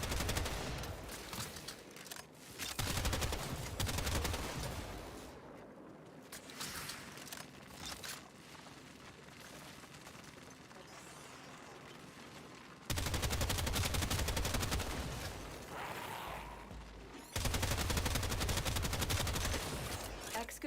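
Enemy gunfire in the Warframe video game during an excavator defense mission, heard as bursts of rapid shots and weapon mechanics that drop back between loud stretches, with busy game effects throughout.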